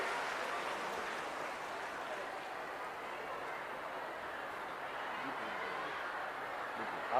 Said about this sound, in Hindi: मैं चाहूंगा एक जोरदार तालियों से माननीय मुख्यमंत्री जी का स्वागत